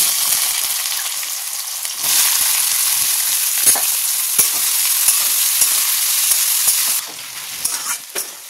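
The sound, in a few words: potatoes and onions frying in hot oil in a wok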